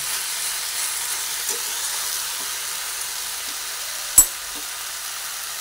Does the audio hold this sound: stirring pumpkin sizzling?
yes